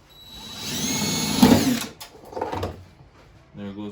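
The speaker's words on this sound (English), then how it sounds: "you take your drill, take your 1/2-inch self-tapping screws" A power drill spins up and drives 1/2-inch self-tapping screws during an alarm installation on a vehicle, a rising whine that peaks and then cuts off, followed by brief clunks and a short mechanical buzz near the end.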